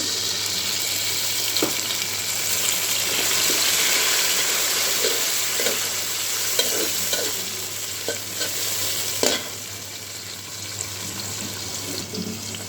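Green chillies hit browned fried onions in a pan for biryani, giving a continuous close sizzle and hiss with occasional scraping and knocking of a spatula as the mixture is stirred, with no voices.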